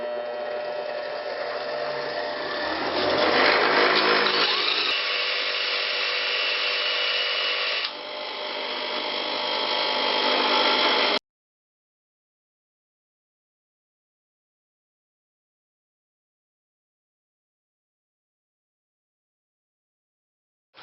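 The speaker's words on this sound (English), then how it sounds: "I'm going to spin this in the drill on the stone and make a point" An electric drill spins a bicycle wheel hub against a stone, a steady high whine with gritty grinding that shifts pitch partway through, then cuts off abruptly into silence.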